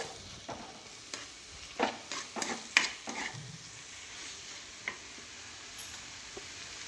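Tomato and dried shrimp are stirred and sautéed in a pan for a Kerala-style curry, with soft sizzling under a few scraping spoon strokes, quiet and close.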